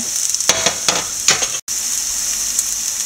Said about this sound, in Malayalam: തേങ്ങാപ്പീര പച്ചമുളക് ചെറിയ ഉള്ളി എല്ലാം കൂടെ വഴറ്റ